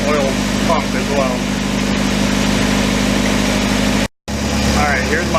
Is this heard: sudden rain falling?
no